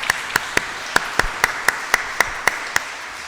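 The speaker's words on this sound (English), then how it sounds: "may we take applause?" Steady, evenly spaced claps ring out at a legal conference, about a dozen sharp hits in a regular rhythm, fairly close and clear with no talking.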